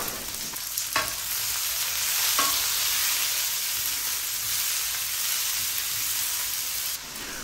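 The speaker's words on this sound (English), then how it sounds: "Get them in. Start stirring." Cherry tomatoes fry in a pan for a chipotle tomato and bean dish, giving a steady close sizzle with a couple of brief clacks as they are stirred.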